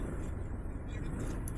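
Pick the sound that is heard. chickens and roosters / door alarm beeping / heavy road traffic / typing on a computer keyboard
heavy road traffic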